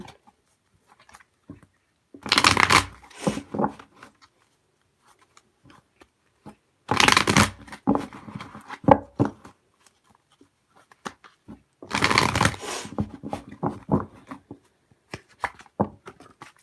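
Tarot cards are shuffled in three short, close bursts of crisp riffling and patter, separated by quiet gaps with small handling taps and rustles.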